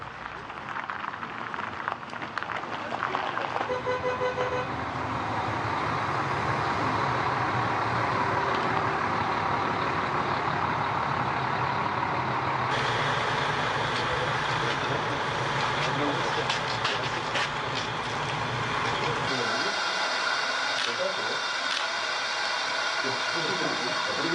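Two buses pull away from the cosmonaut hotel at Baikonur with a steady engine rumble and road hiss that shifts in tone as they move off, with muffled voices in the background throughout.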